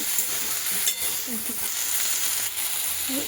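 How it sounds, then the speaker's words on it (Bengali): Bottle gourd and moong dal lightly frying in a pan, a soft continuous sizzle with faint scraping stirs throughout. "এটা এতক্ষণে একটু ফ্রাই টাইপের হচ্ছে, হালকা একটু ফ্রাই করব।"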